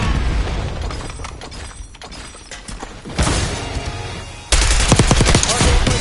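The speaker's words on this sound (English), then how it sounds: "Assaulting with hand cannon." Gunfire rattles through a Black Ops 6 match, dense continuous bursts of automatic fire and impacts that grow louder and more intense toward the end, with no pause between shots.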